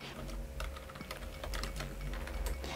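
Typing on a computer keyboard while entering invoice item details into an online form: a brisk, uneven stream of close, crisp key clicks lasts throughout with no voices.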